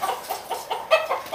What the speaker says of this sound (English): gonna save the chicken